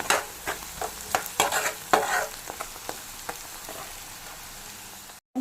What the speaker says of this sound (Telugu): ఇలా కలుపుతూ వేయించుకోవాలండి ఉల్లిపాయ ముక్కలు.